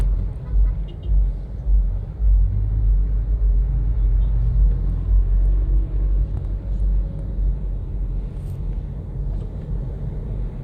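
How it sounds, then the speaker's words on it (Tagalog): Steady road traffic on Commonwealth Avenue, a continuous low rumble of passing cars and engines that stays loud throughout, with voices talking faintly over it. "Kita nyo yung traffic na yan guys."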